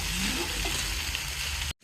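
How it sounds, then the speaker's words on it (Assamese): Ginger, garlic and onion paste sizzles steadily in a hot pan, a close, even frying hiss that stops abruptly. "এতিয়া এইটো অলপমান ব্ৰাউনিছ নোহোৱালৈকে এইটো এনেকৈ ভাজি থাকিম।"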